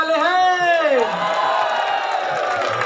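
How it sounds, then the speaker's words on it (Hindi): Crowd at the start of an 11 km men's and women's race at Palika Stadium, Kanpur, whooping and cheering with rising shouts over a loud amplified voice, a dense, steady wall of noise throughout. "जरा कानपुर वाले तालियां बजाओ यार, कम ऑन एवरीवन"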